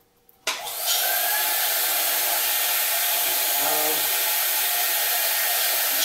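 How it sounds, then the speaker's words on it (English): A vacuum table on a T-Tech PCB milling machine switches on with a sudden onset, then settles into a loud, steady, broadband whooshing roar that holds for several seconds. "So if we turn on the vacuum table,"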